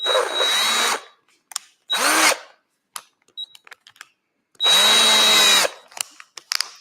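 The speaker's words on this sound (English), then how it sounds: "So I'll just use my electric screwdriver, which is basically a drill." An electric screwdriver used like a drill runs in three short whirring bursts, the last about a second long, with small clicks and taps between the bursts and no talking.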